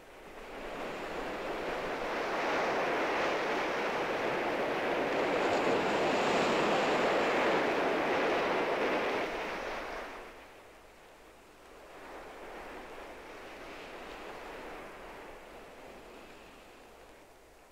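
Sea waves roll in steadily by the shore near Venice, a broad rushing surf that swells loud for several seconds, drops away, then returns more softly, with wind noise mixed in and no voices.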